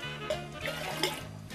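Tap water runs steadily into a sink, a soft continuous splashing stream with a faint hum beneath it.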